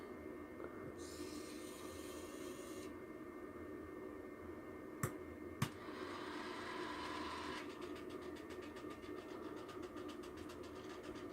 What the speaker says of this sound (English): just preparing for a train to go through